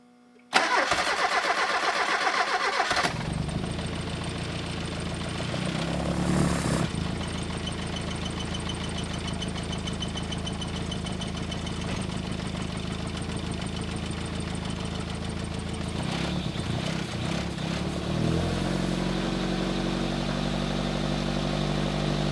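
A Volkswagen Rabbit engine cranks and fires, then settles into a steady, loud idle that runs on for about twenty seconds, its rhythm shifting slightly as it warms up; no one speaks.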